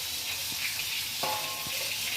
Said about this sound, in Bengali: টাটকা পুকুরের মাছ ভাজা হচ্ছে